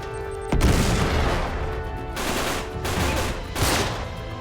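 Grenade explosions and gunfire in the Uncharted 3 video game: a sharp boom followed by dense rattling volleys and further blasts, loud and close, with no talk.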